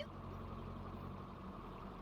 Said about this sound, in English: Yo, I heard your car.